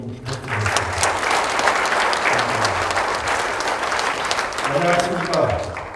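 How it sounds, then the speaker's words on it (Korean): Steady, dense applause from a large crowd at a 2023 social welfare conference in Jeju fills the whole stretch, with a voice speaking faintly beneath it. "그래서 이 공무원 여러분들에게도 뜨거운 박수 좀 부탁드립니다."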